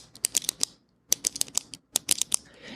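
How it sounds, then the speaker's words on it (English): Close, crisp clicks of a pen being clicked repeatedly, arriving in three quick bursts of several clicks each separated by short pauses, fairly quiet and with no voices. "we were hearing a clicking of a pen like this."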